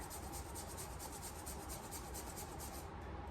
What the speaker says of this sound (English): If you want to add mango to this curry, you need to grate it in